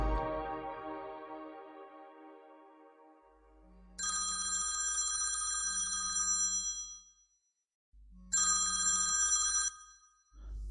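Telephone ringing in two loud electronic bursts separated by a pause, with a low hum beneath and a fading tonal sound before the first ring.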